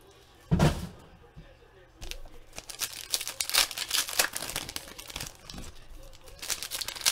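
Foil packs of 2013 NFL football cards being ripped and crinkled open one after another, with a sharp thump early on followed by dense close-up tearing and rustling.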